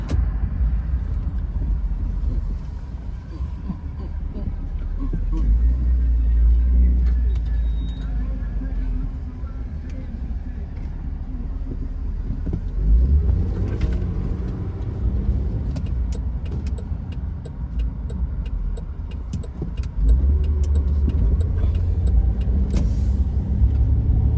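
A Buick Enclave drives and turns around in a gas station, its engine and road noise forming a steady low rumble throughout, with a brief swell of motor noise partway through as the vehicle maneuvers.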